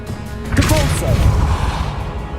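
A Depulso spell cast in Hogwarts Legacy gives a loud, short burst with a booming, whooshing impact, followed by a rumbling tail and continued game ambience.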